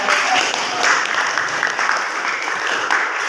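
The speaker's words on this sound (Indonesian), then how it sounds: "Baik, beri tepuk tangan lagi." A class in a classroom applauds, a steady wash of many hands clapping together at even loudness throughout, with a faint murmur of voices beneath.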